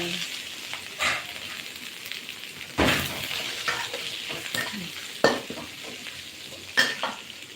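Blanched liver is stir-fried in a pan for a chilli basil dish. A steady sizzle runs under repeated spatula scrapes and clanks that come every second or two, close and fairly loud.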